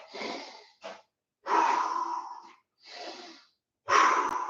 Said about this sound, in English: Catch your breath. Couple deep breaths.